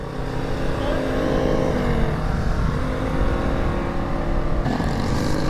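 A motorcycle ridden at speed over an uneven, bumpy road makes a loud, continuous close-up roar of engine and rushing wind that holds steady throughout, with a brief shift in tone near the end.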